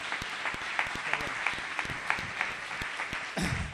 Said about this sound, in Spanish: Un aplauso para Toba del Barrocillo.